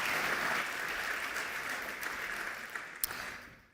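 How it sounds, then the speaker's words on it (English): Audience clapping at an awards ceremony: dense, sustained applause from a crowd that slowly thins out, with a few louder individual claps near the end. "We need a lot of clapping."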